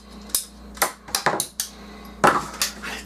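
Ratcheting cutters snipping through material for a base form, a series of sharp close clicks and crunching snaps in an uneven rhythm, with no speech.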